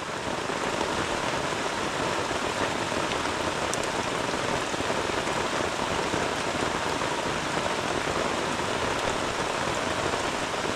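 Heavy, steady rain pouring down on a campsite in a tropical rainforest during a storm, a dense, unbroken hiss of drops close by with no voices.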